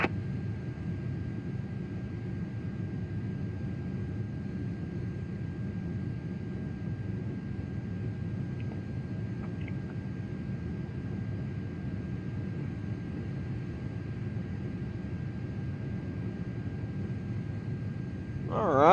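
A Delta Airlines Airbus A330 taking off in a flight simulator, a steady broadband engine roar holding level and fairly quiet throughout, with a faint tonal hum running underneath.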